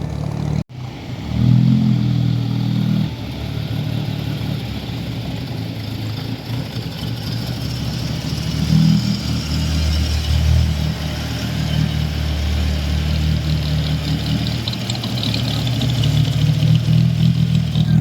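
An old Mitsubishi Celeste engine idles with a steady low rumble, swelling slightly now and then as if revved lightly, close by and continuous.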